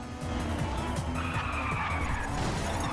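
Car tires skid and squeal through a sharp corner in the racing game GRID, with a steady engine roar and a rising screech of rubber as the handbrake is pulled, loud and continuous.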